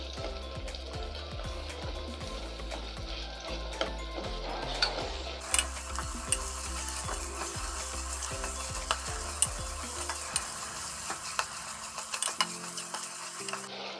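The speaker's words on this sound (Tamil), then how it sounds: "தக்காளி எல்லாம் நல்லா ஃப்ரை ஆகட்டும்." Chopped tomatoes fry in oil in a pan for a pressure-cooker mutton biryani, giving a steady close sizzle with frequent clicks and scrapes of stirring throughout, and no voices.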